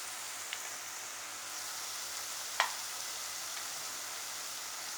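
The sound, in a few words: sautéing onions with ginger garlic paste for prawn chukka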